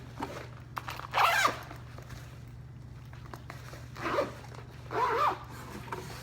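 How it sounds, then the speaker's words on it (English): A feeding tube bag is zipped shut three times in quick, raspy bursts, close and clear over a steady low hum, with no talking. "Nice and tight, and then I zip it up."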